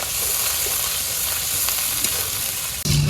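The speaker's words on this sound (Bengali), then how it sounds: "চিংড়ি মাছটা আগে ভাজা ভাজা করে নিই" Loud, continuous sizzling of shrimp frying in a hot pan, broad and crackly throughout, with a sudden shift and a low tone at the very end.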